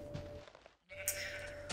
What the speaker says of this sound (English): Oh, what are you doing, sheep?